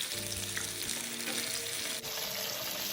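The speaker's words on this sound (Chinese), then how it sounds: "在油煎过程中，尽量多将肉块移位推动，多翻几次面" Pork belly pieces pan-fry in hot oil in a pan, giving a steady, close sizzle that runs throughout with no talking.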